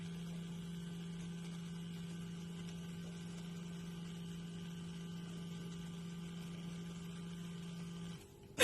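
A steady low electric buzz of a vibrating toothbrush running at 20,000 vibrations per minute hums continuously for several seconds, then cuts off.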